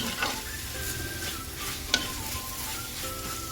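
Spinach curry with green chilies gets stirred in a hot pan, soft sizzling under scraping spoon strokes, with one sharp clink of the utensil against the pan near the middle.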